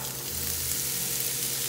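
Red onions fry in avocado oil in a pan, a steady, fairly quiet sizzle that holds evenly throughout.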